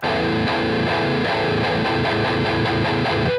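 Heavy distorted electric guitar chugging in tight palm-muted bursts, a loud rhythmic riff of repeated low chords played alone.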